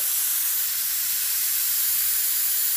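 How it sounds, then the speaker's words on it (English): A continuous, even hiss of a low-pressure paint spray gun spraying a motorcycle frame, steady and close with no breaks, cutting off abruptly at the end. "So I'm spraying now."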